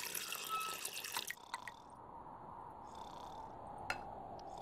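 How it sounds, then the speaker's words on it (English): Water running from a faucet in the video game Samorost 2, a faint steady trickle that continues alone after a brief burst of brighter splashing and clinking at the start. "Now, turn that faucet, put some water in there."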